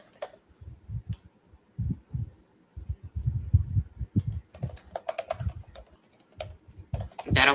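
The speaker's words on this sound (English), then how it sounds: "What if I just type in Kendrick Lamar?" Someone types on a computer keyboard at a table, irregular clusters of soft clicking and thudding keystrokes close by, with brief pauses between bursts and no talking.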